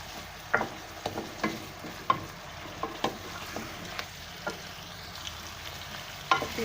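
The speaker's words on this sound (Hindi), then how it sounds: "अच्छी तरह घुमाते रहेंगे और बोटियों को उलटना पलटना है ताकि हर तरफ से ये पक जाए।" Chicken pieces for koila karahi are stir-fried in a karahi, with a continuous sizzle and a regular rhythm of metal spatula scrapes and taps against the pan, close and with no talk.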